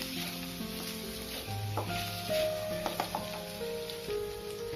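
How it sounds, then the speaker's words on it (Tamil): Tomatoes sauté in a pan for a palak aloo masala, giving a soft, continuous sizzle with faint scraping and stirring sounds, no voices. "இதை நல்லா வந்து தக்காளி வேகிற அளவுக்கு, அதாவது மசிஞ்சு வர வரைக்கும், ஓரளவு கிரேவியாக வர வரைக்கும் நல்லா வதக்கிக்குவோம்."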